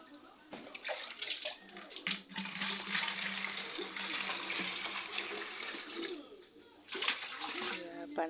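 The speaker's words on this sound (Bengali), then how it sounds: "ওটা পানি ফেলে দিয়েছি" Water pours out of a bucket in a steady rushing splash for several seconds, with a fresh surge near the end and faint voices underneath.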